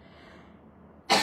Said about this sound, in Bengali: কাশিটা কেন উঠলো?